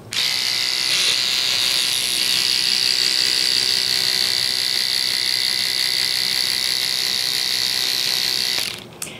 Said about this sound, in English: let me just show you what it looks like doing its spinning and its vibration action